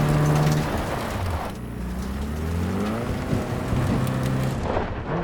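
Heavy thunderstorm in Cyberpunk 2077, a dense continuous wash of rain and rumbling thunder with low rolling swells, loud and close throughout with no talk.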